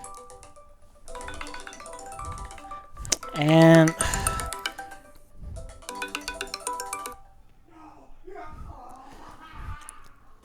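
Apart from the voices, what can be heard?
phone ringtone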